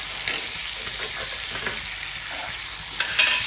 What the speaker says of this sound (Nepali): राखेर यसलाई एकछिन चलाउने पाकुन्जेलसम्म टमाटर